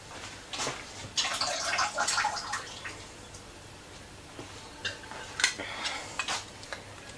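Water draining from a can of corn while preparing a salmon salad in a kitchen, with splashing, drips and light metallic clinks in short bursts.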